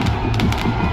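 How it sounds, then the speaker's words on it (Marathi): Firecrackers and fireworks bursting amid a dense festival crowd at a temple celebration, with several sharp cracks and pops over a loud, continuous crowd roar close by. "हे बघा, फटाक्यांची आतिषबाजी."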